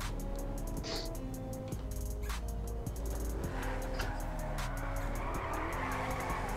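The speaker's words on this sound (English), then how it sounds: "this car is mad, like grips, drifts, it's doing everything" Car drifting in FiveM, a GTA-based multiplayer driving game, engine revving hard with repeated gear changes and sustained tire squeal, loud and close, no talk over it.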